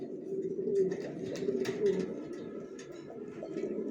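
Young adult racing pigeons coo in a loft, a steady low throaty burbling that rises and falls, close by and continuous, with faint rustling in the background.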